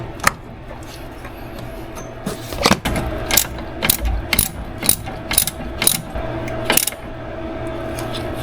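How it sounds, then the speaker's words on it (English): A ratchet-style car jack clicks as a car is raised to load a freshly installed shock absorber, about a dozen sharp mechanical clicks in an uneven rhythm over a low steady hum, close and fairly loud. "I jack up the car just to mimic a full load on the shock absorber"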